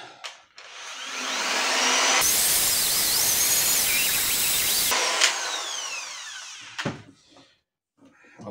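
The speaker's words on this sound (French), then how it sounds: "elle fait un bruit, hein, la perceuse" A loud whining electric drill runs steadily for several seconds, then winds down, with scattered knocks and clatter before and after.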